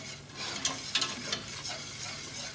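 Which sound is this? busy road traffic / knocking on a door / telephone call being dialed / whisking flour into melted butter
whisking flour into melted butter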